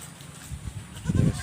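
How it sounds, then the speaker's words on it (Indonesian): Goats bleating in a pen, a short close bleat rising near the end of a brief moment of low farmyard sound. "Ini di kandang nih kambingnya"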